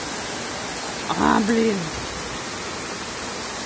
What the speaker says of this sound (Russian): Сейчас вообще какой ливень.